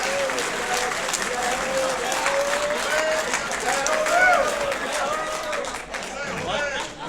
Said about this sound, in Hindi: जरा जोरदार तालियां बजाएं पीछे भी